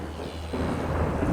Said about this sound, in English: A storm is sweeping through the desert of my creation.